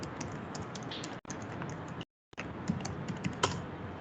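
A password is typed on a computer keyboard in a quick run of close clicking keystrokes, broken by a brief silent gap before a few more taps.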